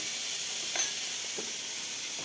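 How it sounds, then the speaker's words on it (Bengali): Broccoli frying in a pan gives a steady, even sizzle and hiss throughout, with a few faint clinks of stirring and no voices. "এখানে ব্রোকলিটা ভাজছি"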